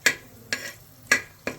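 Whole spices (cinnamon, cloves, cardamom, bay leaves) crackling in hot oil for chicken 65 biryani: four sharp, separate pops or scrapes over a faint, quiet background.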